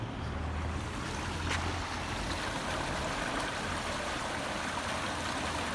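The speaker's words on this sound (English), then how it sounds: "We get a waterfall thrown in for good measure." A small waterfall on a stream in Ruskington gives a steady, dense rush of falling water, close and continuous, with no talk.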